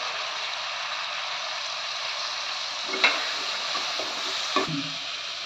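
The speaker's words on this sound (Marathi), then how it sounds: "आता ते चणे घालते. जरा परतून घेतल्यावर चणे." Chickpeas sautéed in a pan for a masala chana sundal, giving a steady, moderate sizzle with a few sharp spatula clicks and scrapes near the end and no talk.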